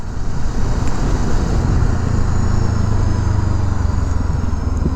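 A Kawasaki Z7 Hybrid motorcycle accelerates in sport mode on a highway, a loud steady engine drone with a rising tone and wind rush, and no talking.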